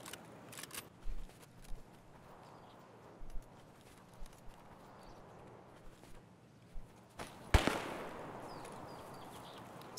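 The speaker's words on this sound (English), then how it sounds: "Sniper scav shooting at somebody." A sniper scav firing in the video game Escape From Tarkov, heard as faint, distant sharp cracks spaced several seconds apart, with one louder report near the end over quiet ambience.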